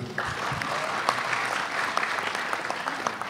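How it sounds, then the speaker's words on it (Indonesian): Audience applause at a public religious gathering honoring a regional head, steady dense clapping that carries through the whole stretch without talk. "Aplaus untuk Pak Bupati."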